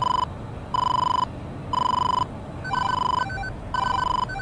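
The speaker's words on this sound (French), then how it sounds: "c'est une alarme qui dit qu'on va trop vite." Overspeed warning alarm in a Mirage 2000 fighter jet cockpit in DCS World: a steady electronic tone pulsing on and off about once a second over low engine and cockpit rumble, with no talking.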